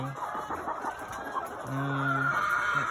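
Backyard laying hens cluck and murmur close by, with a few drawn-out, higher calls standing out against steady farmyard background noise.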